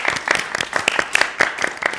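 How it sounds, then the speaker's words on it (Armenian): An audience at a karaoke show claps in a dense, lively burst of applause that stays steady and close throughout. "սերը եկեք ծափարենք"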